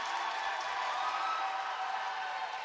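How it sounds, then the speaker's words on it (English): Crowd at a schools league under-19 boys basketball final cheers after a turnover, a dense, steady roar of voices and clapping held at an even level throughout. "that turnover there is enough to give the ISK crowd reason to cheer"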